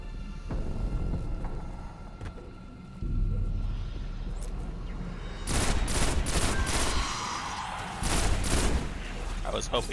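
Gunfire from the video game Destiny, bursts of shots crackling over a steady game soundscape, with heavier volleys in the second half.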